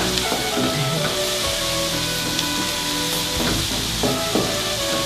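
Chopped white onion and ingredients sizzling in butter in a pan: a steady, loud, crackling fry throughout, with occasional stirring scrapes and no talking.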